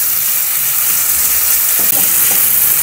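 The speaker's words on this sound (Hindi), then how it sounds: "लहसुन अदरक, हल्का सा इसको भूनते हैं, लहसुन अदरक और प्याज को इकट्ठा।" Garlic, ginger and onion frying together in a pan for samosa filling, a loud, continuous close-up sizzle with a faint stirring scrape partway through.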